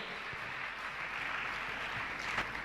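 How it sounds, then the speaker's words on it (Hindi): An audience claps in broad, steady applause at a religious discourse gathering, a dense, even patter sustained throughout. "जोरदार ताली बजाकर इनका सम्मान करें"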